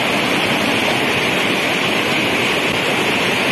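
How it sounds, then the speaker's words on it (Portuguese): Steady, dense roar of a waterfall on the high-flowing Paraíba River, loud and close, a constant rushing wash with no talking. "Aqui a gente encontra essa queda d'água, essa cachoeira, o rio com muita água nesse dia"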